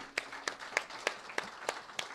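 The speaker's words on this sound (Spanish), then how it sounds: "Pero apláudale bien fuerte a Cristo Jesús." Rhythmic clapping from a church congregation during a Spanish-language Sunday service, evenly spaced claps about every third of a second, moderately loud with faint background noise.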